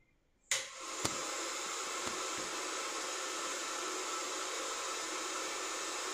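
A nano coating machine's solidifying chamber starts with a click and then blows a steady hissing, hair-dryer-like airflow as it dries waterproof coating on a mobile phone. The sound stays constant and fairly quiet throughout.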